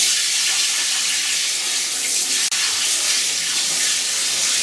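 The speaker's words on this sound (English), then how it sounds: "Just pour them in. Give them a nice wash." Water pours steadily over vegetable seeds in a sieve as they are washed, a broad continuous rushing splash with one brief knock midway. It is close and loud, with no talking.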